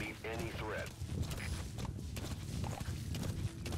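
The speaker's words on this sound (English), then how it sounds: "That guy's riding horses." Horse hooves clip-clop in Metal Gear Solid V: The Phantom Pain as a rider passes in the Afghanistan setting, a soft irregular patter of steps under game ambience with a voice briefly audible near the start.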